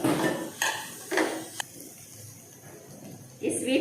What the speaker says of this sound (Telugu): ఈ స్వీట్ కార్న్ కూడా ఇందులో వేసి మనము ఒక 2 మినిట్స్ వేయించాలి.